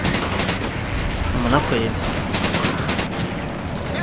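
Dense, loud gunfire in the World War II shooter Medal of Honor: Pacific Assault during a night defense battle, with rapid overlapping shots and machine-gun bursts throughout and a man briefly exclaiming over the din.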